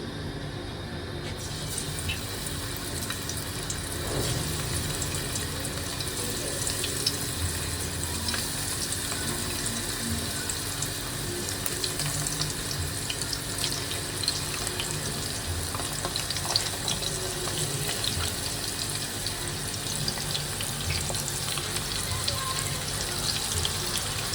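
Local puti fish fry in hot oil in a kadai, giving a steady crackling sizzle that runs unbroken and fairly loud for the whole stretch, with faint clinks and no speech.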